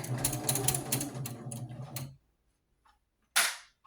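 A sewing machine stitches a doll quilt made from scrap fabric, running in a rapid close whir for two seconds, then stopping, followed after a pause by one brief burst of back stitching.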